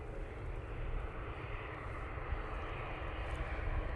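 An ATR 72 turboprop at Manchester Airport gives a steady, broad engine roar that holds fairly constant throughout, moderately distant, with no talk.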